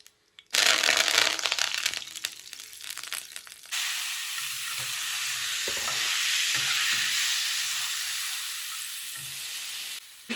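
Mustard seeds sizzle and crackle loudly in hot oil, a steady bright hiss with small pops that keeps going for several seconds.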